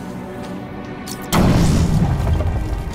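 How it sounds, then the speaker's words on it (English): Explosive gel detonating on a Titan container in Batman: Arkham City, a sudden loud boom after a quieter ambient bed, followed by a rumbling, crackling tail of debris. "The only way to destroy it is to use explosive gel."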